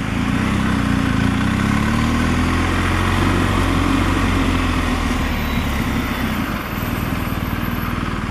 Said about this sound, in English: A little bit of engine braking, as you'd expect from a flat twin boxer engine.